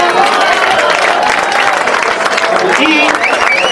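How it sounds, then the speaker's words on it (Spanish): Loud, dense applause from a crowd fills the room at an end-of-year party award presentation, steady and sustained throughout, with voices mixed in. "El señor Tomás Seboín, fuerte el aplauso."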